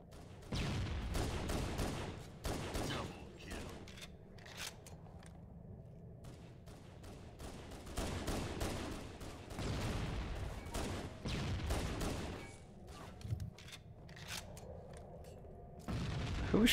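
Halo CE video game gunfire comes in repeated loud bursts of shots and booms across a multiplayer match, with quieter gaps between the volleys and no voices.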